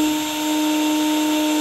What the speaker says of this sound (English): Like this drill's wide open right now, and you see it's just whipping out real fast.